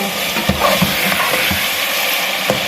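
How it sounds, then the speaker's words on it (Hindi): Minced meat keema frying in a pan for a keema karela dish makes a loud, continuous close-up sizzle, broken by a few dull scraping stirs of a spoon, with no voices. "अब इसको हमने 2-3 मिनट के लिए भूनना है"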